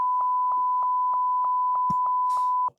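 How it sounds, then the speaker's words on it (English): A censor beep, a steady pure tone held for nearly three seconds at a loud level. Faint rhythmic clicks run under it and brief voice fragments slip through before it cuts off abruptly. "now you have to beep it"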